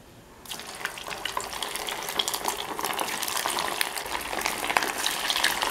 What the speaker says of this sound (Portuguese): Óleo bem quente, né? A gente vai fritar por imersão, né?